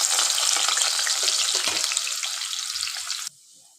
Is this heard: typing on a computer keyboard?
no